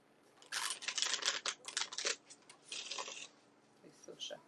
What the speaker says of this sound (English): They still shuffle nice.